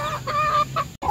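Chickens cluck in short repeated calls at a home backyard flock, close and fairly loud, with no talk over them and a brief gap near the end.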